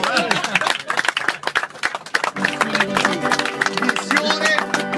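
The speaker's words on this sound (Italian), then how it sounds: "Applauso!" A crowd claps and cheers, with quick scattered hand claps at first that thicken into steady applause mixed with shouting voices.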